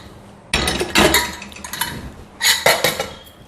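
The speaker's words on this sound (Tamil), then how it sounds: "நான் ஒரு குக்கர் எடுத்துட்டேங்க." Metal pressure cooker picked up and set down in a home kitchen, two bursts of loud clanking and clinking against a quiet background, with no talk.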